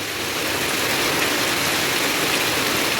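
Heavy rain pours down with water rushing past the front of a house during a storm, a dense, steady roar of close, loud broadband hiss, with no voices.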